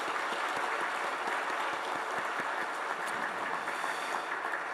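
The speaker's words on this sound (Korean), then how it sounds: "우리 두 분 선교사님을 박수로 격려하시면 좋겠습니다" A church congregation applauding two missionaries during Sunday worship, a steady roomful of dense clapping that holds at an even level for the whole stretch, with no voices over it.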